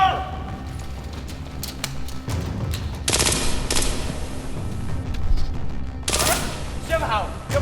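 Volleys of gunfire break out after a shouted command, with sharp bursts of cracking shots in two loud waves and scattered clicks in between, mixed with background voices.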